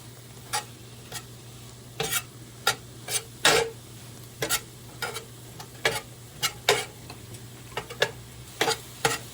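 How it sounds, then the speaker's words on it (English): Ground venison sizzles and browns in a pan, with a steady frying hiss broken by frequent sharp scrapes and clacks as it is tossed and stirred, close and clear with no talking. "We're going to give this a toss. Trying to brown up our meat before we make our pie."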